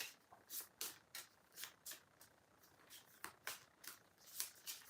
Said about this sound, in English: let me just shuffle these cards and see what comes out.